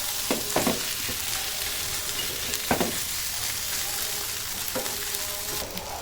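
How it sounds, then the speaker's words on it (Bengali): Pieces of sweet pumpkin fry in a pan for a Bengali pumpkin halwa, a steady close sizzle with a few brief spatters and stirring clicks and no talking. "একটু ভাজা ভাজা হোক, মিষ্টি কুমড়ো যে কাঁচা একটা গন্ধ আছে, একটু ভাজা ভাজা করে গন্ধটা ছেড়ে দেবো।"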